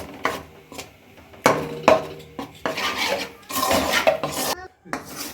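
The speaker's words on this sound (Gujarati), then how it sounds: "વચ્ચે વચ્ચે આવી રીતના આમ ફેરવતું જવાનું, એટલે લોટ ચોટે નહીં અને નીચે દાજ ન લાગે" Gram flour being stirred in a pan on a low flame for besan barfi, with repeated scraping and clinking of a spoon against the metal pan in irregular bursts, close and fairly loud, no talking.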